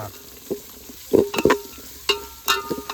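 Chopped onion tossed into a hot pan at an outdoor farm mutton cook-up, giving a few sharp clattering stirs and bursts of frying over a low background hiss, with no voices.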